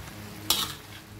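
Fern shoots (pucuk paku) are stirred in a pan on the stove, giving a short scraping, sizzling burst in the middle of a quiet kitchen hum.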